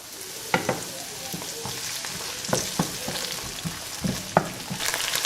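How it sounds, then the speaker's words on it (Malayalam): Ginger garlic paste frying in a pan, sizzling steadily while a spoon scrapes and stirs it in irregular clicks and knocks, close and moderately loud with no talking. "അതിനുശേഷം ഇതൊന്നുകൂടി ശരിക്കും ഒന്ന് ഇളക്കി കൊടുക്കാം"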